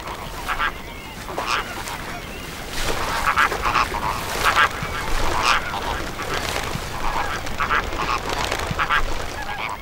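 Flamingos calling in a brackish Cuban mangrove swamp, a flock of honking, goose-like cries in repeated bursts over a constant background murmur.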